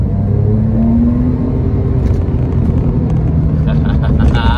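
A 12-year-old Porsche 911 of the 997.2 generation accelerates hard from a rolling start, its engine a loud, steady, deep drone that holds throughout with a rising tone.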